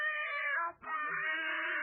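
An alley cat meowing as a radio sound effect, a steady drawn-out yowl with a brief dip midway, then the wailing resumes, close and fairly loud with no talk over it.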